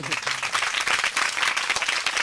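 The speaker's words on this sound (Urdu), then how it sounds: "فوجی بننے کے تالیاں لگائیں ان کے" A group applauds steadily for about two seconds, a dense, continuous wash of hand claps. A low voice is briefly audible at the start. The setting is a gathering of children, cheering one who wants to become a soldier.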